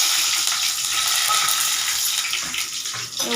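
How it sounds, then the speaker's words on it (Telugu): Cumin and whole spices sizzling in hot oil for a paneer curry tempering, a steady, close hissing crackle with bright frothy texture throughout, no talk over it. "ఇగో జీలకర్ర వేస్తున్నా ఇగో మసాలాలు వేస్తున్నా పోపులో"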